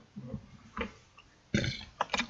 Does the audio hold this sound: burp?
yes